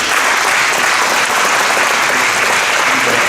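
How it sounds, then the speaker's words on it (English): Dense clapping from a school awards ceremony audience, steady and loud, with no distinct individual claps standing out, continuing for a few seconds. "So let's give them a round of applause, please."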